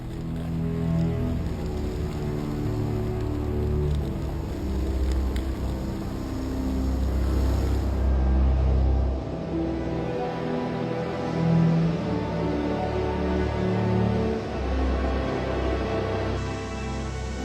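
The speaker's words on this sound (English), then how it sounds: "Complete with 100-meter telescopic boom and Y-guying system, the LTM 11200 sets off." A Liebherr LTM 11200-9.1 mobile crane with a 100-meter telescopic boom and Y-guying system pulls away, its heavy diesel engine rumbling low and steady, rising and shifting as it sets off, with wind noise over the microphone.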